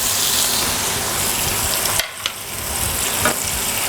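A blue lobster tail sears loudly in a hot pan, a dense continuous sizzle broken by a brief dip and a few spoon scrapes as it is basted, close and alone with no talking.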